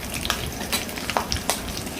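Avoli (pomfret) fish frying in hot oil, a steady close crackle and sizzle dotted with sharp spits and pops, with no talking.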